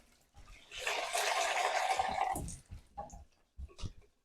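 Hot water from a jug splashing and running over a Pinter docking lid and parts during rinsing, a steady close pour for about two seconds followed by a few short drips and knocks.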